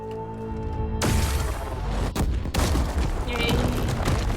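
Burst of gunfire from a shooter-heavy combat scene in Horizon Forbidden West, a loud broadband volley kicking in abruptly after a quiet musical opening and continuing with sharp cracks and rumble, mixed with game speech.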